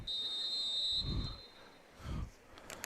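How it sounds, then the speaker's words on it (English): A referee's whistle signals halftime at a girls' soccer match at a winter combine, a single sustained shrill blast in the first second, followed by faint field ambience and a couple of low thumps. "And that'll be it for the halftime whistle."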